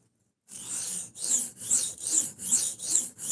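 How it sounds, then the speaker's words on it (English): A knife blade is drawn across a sharpening stone at a deliberate angle, producing about seven rhythmic, evenly spaced rasping strokes with brief gaps between them, close and clear. "I'm sharpening it a certain way on purpose."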